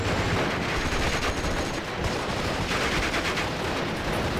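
Dense gunfire and artillery in the WWII strategy game Steel Division: Normandy 44, a loud continuous barrage of overlapping shots and booms with no clear gaps and no talk.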